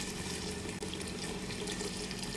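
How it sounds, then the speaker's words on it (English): Hot water runs steadily into a cooking pot while stew beef is being prepared, a continuous, close, full-bodied splashing stream with no talk. "I'm gonna add hot water."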